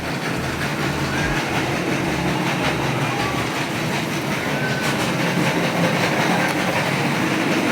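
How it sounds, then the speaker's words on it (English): A loud cart rolls past through a Marshalls store, a steady rumbling clatter that fills the whole stretch without letup and sounds much like a passing train, with no talking over it. "Sorry, there's some loud cart going by."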